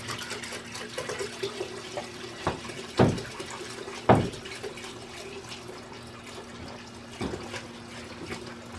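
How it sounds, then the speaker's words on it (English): Liquid parts cleaner and water poured into a bucket for a 50-50 mix: a faint, steady trickle and splash with a few sharp knocks from the container, quiet and close. "I'm going to just pour it into this bucket first, I think."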